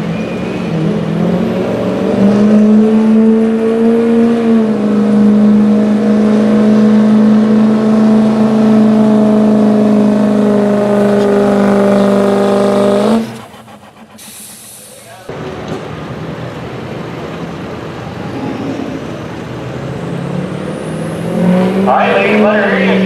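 A Ford pulling truck at a county fair truck pull drones loudly with a steady revving engine, then cuts off abruptly before a rougher engine noise and a voice on the public address system take over.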